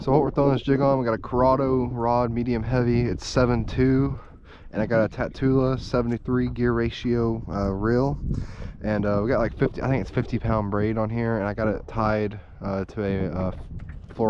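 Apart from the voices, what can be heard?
None of the usual background noises is heard.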